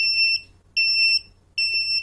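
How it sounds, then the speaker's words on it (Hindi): A door interlock panel buzzer sounds because a door has been left open, giving three evenly spaced shrill electronic beeps, each about half a second long, clear and close with short silences between, and no talking. "अगर हम डोर 1 को फिर से बंद नहीं करते तो 15 सेकंड में बजर बजना चालू हो जाएगा इस तरह से"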